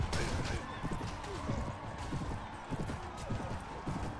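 A horse gallops in the Mount & Blade Warband video game, its hooves thudding in a quick, continuous clip-clop rhythm amid busy, noisy battle ambience, with someone talking over it.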